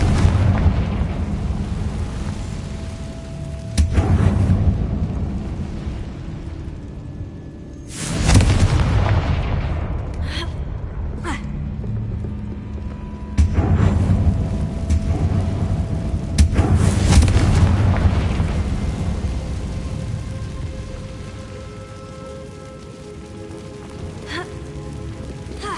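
Confringo blasting-curse explosions in Hogwarts Legacy, several loud booming bursts spaced across the span, each with a long rumbling decay, over a steady hiss-like ambience.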